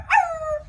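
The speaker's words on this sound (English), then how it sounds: "Just listen to that barking, those hounds sound ferocious." One dog gives a single sharp bark that trails into a falling whine. It is close and clear, with no talk over it.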